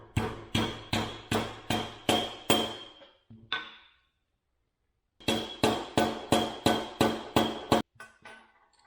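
Metallic hammer strikes drive a roll pin into a cross pin during a TORQ Locker differential install on a Subaru WRX VA, two bursts of about seven to eight evenly spaced ringing blows separated by a pause.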